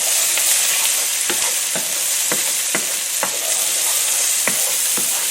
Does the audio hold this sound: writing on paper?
no